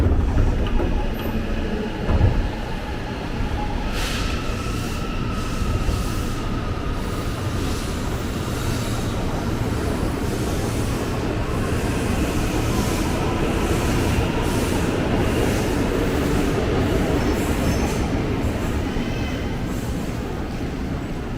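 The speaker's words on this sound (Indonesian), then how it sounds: "Oke, KRL kembali berangkat dari jalur" A KRL commuter electric train rumbles steadily as it pulls away from Tanah Abang station, wheels droning and rails clacking faintly, with brief squeals near the start; loud and close.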